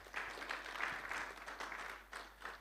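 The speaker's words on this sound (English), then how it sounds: "I think that deserves a round of applause." Audience applause at an agriculture conference in Nigeria, a moderate burst of clapping that swells and fades in waves, fairly quiet and slightly distant in a hall.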